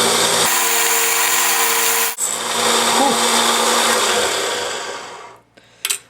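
A power tool grinds steadily, trimming and rounding the top of a small metal key being made for an antique chest; a loud continuous whine, briefly dipping once, then tailing off near the end with a short final burst.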